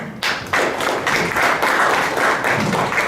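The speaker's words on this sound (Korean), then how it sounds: "큰 박수로 맞이해 주시기 바랍니다" Audience applause at a March 2019 startup forum welcoming a presenter on equity crowdfunding, a dense steady clapping that swells in after a short thud and holds loud and even throughout.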